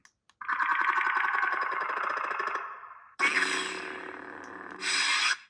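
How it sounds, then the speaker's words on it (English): Neopixel lightsaber with a Dooku sound font firing its Hunter ignition effect: a loud electronic surge snaps on, holds a buzzing hum, then a second bright burst flares and a final hiss swells before cutting off, with no voices. "we're just going to take a look at all the different ignitions that come pre-installed on the saber"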